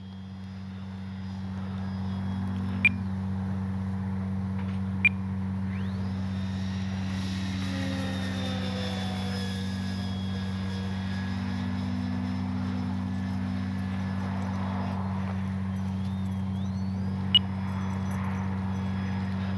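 An E-flite Timber electric RC airplane running on a 3S battery takes off with full flaps, its motor giving a steady drone that rises into a whine as it climbs, with a few sharp clicks along the way.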